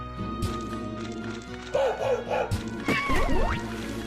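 Dogs in a video game make short barking and yipping sounds, several bursts spread over a few seconds alongside music and game sounds, with people talking over them.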